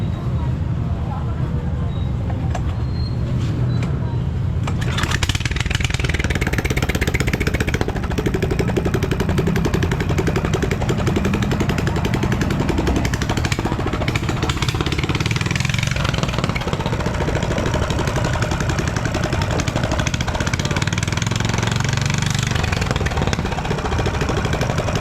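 Service boat engines run steadily and loudly throughout, a continuous mid-pitched motor drone with a rough, hammering texture, while people talk nearby over the noise.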